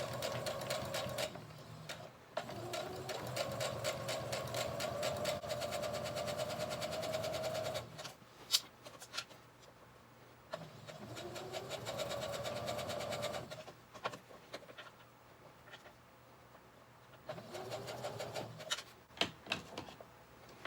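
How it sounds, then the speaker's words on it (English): A home sewing machine stitches a garment seam and back stitches, its needle running in steady close whirring bursts separated by short pauses, loud and near with no talk. "back stitch."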